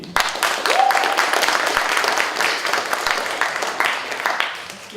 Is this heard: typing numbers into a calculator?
no